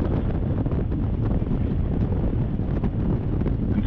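Strong wind buffets the microphone on a moving 2021 Harley-Davidson Road Glide Special motorcycle in a constant low roar with gusty fluctuations, loud and unbroken throughout.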